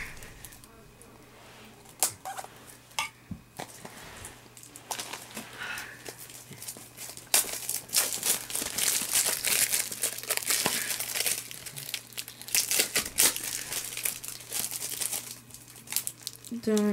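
Rocket League Collector's Edition packaging being cut open with a knife and torn apart, a close run of crinkling, ripping and scraping sounds that grows busier and louder partway through, with occasional sharp snaps.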